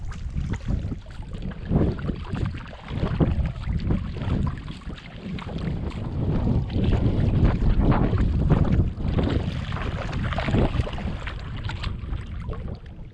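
A canoe glides across open water on a spring solo trip, with steady water wash and wind buffeting the microphone in a continuous, fairly loud rush.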